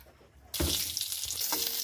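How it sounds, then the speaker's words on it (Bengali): A bay leaf drops into hot oil in a karahi and bursts into a loud, bright sizzle about half a second in, then keeps crackling steadily and close up. "আমি হালকা একটু তেল দিয়ে তেজপাতাটা ভাজা ভাজা করে নিলাম"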